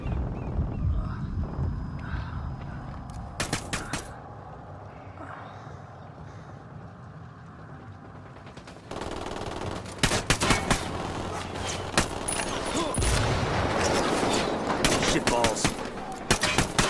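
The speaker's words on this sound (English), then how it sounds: "I'm opening fire on these shitheads." Gunfire in Ghost Recon Wildlands, with sharp shots early on, a quieter lull, and then sustained loud firing that stays dense to the end, with no talking.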